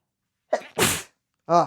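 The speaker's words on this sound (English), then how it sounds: "I gotta sneeze" A single close, loud sneeze: a quick inhaled catch and then a forceful burst, followed by a brief voiced sound afterward.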